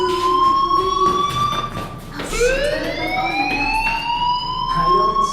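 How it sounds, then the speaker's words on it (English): A fire alarm blares in the video game Life Is Strange, a loud electronic siren tone sweeping up and down continuously and steadily throughout, with no voices. "Hey, do you hear that fire alarm?"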